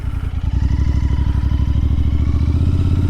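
A Royal Enfield Continental GT 650 cafe racer with a Scorpion exhaust runs below 3,000 RPM, giving a loud, close, steady thumping burble with evenly spaced pulses and no revving.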